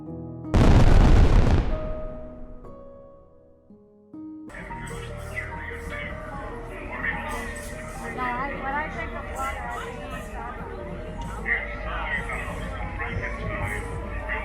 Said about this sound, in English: Got to watch the nightly fireworks there on the Canadian side of the falls.